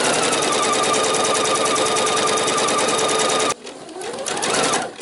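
A sewing machine runs around the edge of elastic shirring fabric for a summer dress, a fast, even, rattling stitch held close and loud for several seconds before it stops abruptly, leaving faint fabric handling.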